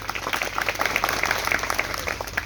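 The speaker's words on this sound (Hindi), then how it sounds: "एक बार तालियां बजा दो" Audience applause at an evening cultural programme honouring martyrs in Ramsanehighat, Barabanki: steady, dense clapping from a crowd, moderately loud and continuous throughout.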